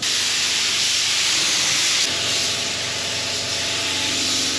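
Primer is sprayed steadily onto the track frame of a 1939 Caterpillar D4 crawler, a loud continuous hiss that shifts slightly in tone partway through and keeps going without pause.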